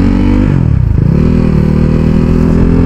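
A motorcycle engine during a road race between a Yamaha R6 and a KTM RC 390, loud and close, pitch sweeping down and back up as a bike passes over a steady engine drone.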